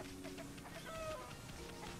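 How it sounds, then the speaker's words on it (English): Chickens cluck in Kusa Village in the video game Okami, a few faint, short clucks under game music. "But first we got chickens."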